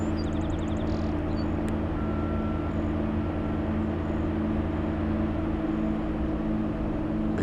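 A loud, steady low hum over Maryland, reported as a strange sound in the sky, drones continuously throughout with little change in level and no speech.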